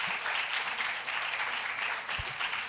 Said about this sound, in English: we need to applause loudly